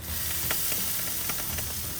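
A steady hiss of sizzling fills the clip, with faint crackles and small pops scattered over it, fairly close and without voices.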